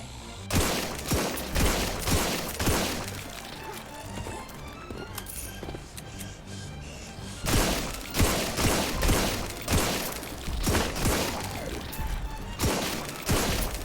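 Defensive guns fire in the GROSS video game, with bursts of rapid shots that come in clustered volleys. They are loud and close, and a quieter stretch sits in the middle.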